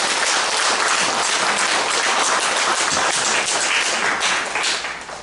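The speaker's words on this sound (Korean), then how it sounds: "이분들 격려의 박수를 한번 보내주세요" A church congregation applauds in encouragement at a Sunday service, giving dense, sustained clapping from many hands that fills the room and eases off slightly at the end.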